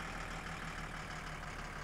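A tractor engine idles in My Summer Car, a steady low rumble with a faint regular chug, quiet and unchanging over a brief moment.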